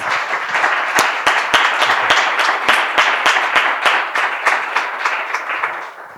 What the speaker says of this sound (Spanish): Os pido ya un aplauso para estas 2 maravillas.